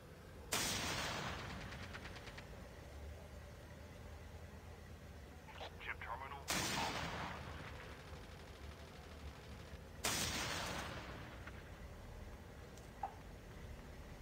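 Three heavy blasts of gunfire in the Call of Duty battle royale video game, each a loud sudden boom several seconds apart that fades out, with scattered softer clicks and voices talking throughout.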